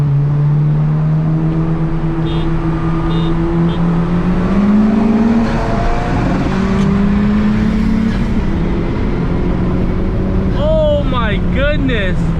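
Tuned 2017 Honda Civic Type R and an E85 big-turbo tenth-gen Civic Si roll racing, engines droning loud and steady then climbing in pitch as they accelerate, with wind buffeting and a brief higher whine near the end.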